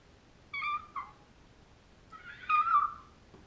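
A cat meows twice in quick succession, then gives one longer, drawn-out meow about a second and a half later, heard clearly and fairly close in a quiet house with no talking.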